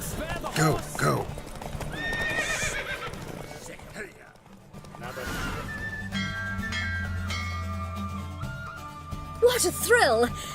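Horses racing in The Witcher 3: rapid clip-clop hoofbeats pound close and loud while a horse whinnies sharply more than once, with voices and game music underneath.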